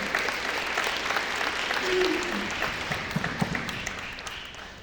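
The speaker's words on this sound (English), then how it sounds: "give yourselves a round of applause for being here today" Steady, dense audience applause fills a community organizing talk from start to finish, a sustained wash of many hands clapping at even loudness with no single voice standing out.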